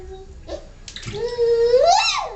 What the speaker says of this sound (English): There's the splashing.